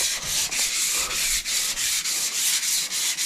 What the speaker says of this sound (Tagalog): So naglilihan na rin sila rito.